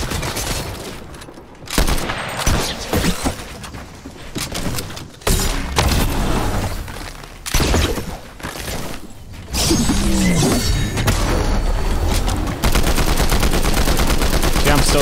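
Rapid gunfire in a Fortnite match while aiming down sights, dense bursts of shots with explosions and impact clatter, loud and continuous with brief pauses, mixed with game effects and occasional talk.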